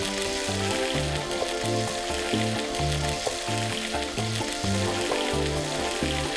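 Steak frying in a cast iron pan with butter and a garlic clove, a steady loud sizzle running without pause, with a rhythmic low thumping pattern underneath.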